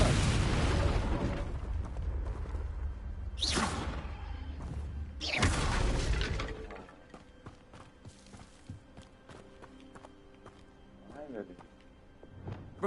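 Confringo blasting spells exploding in Hogwarts Legacy: two sharp, loud bursts a couple of seconds apart with whooshing tails over rumbling combat, then a quieter stretch of softer game effects and a voice.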